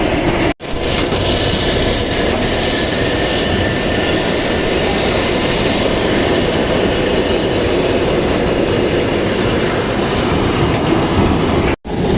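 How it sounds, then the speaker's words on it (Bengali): A train hauling sugarcane into a sugar mill rumbles past, a loud continuous low roar of rail wagons with faint clickety-clack, steady from start to finish with no voices. "সেই কুষার এখান থেকে ট্রেনের মাধ্যমে এই দিকে এই দিকে মেলের ভিতর প্রবেশ করে"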